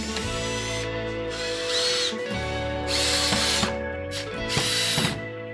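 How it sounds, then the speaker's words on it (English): Power drill driving screws into a wooden faux mirror frame: close, loud whirring bursts with ratcheting clutch clicks, stopping and restarting several times. "I think we're ready to drill them in."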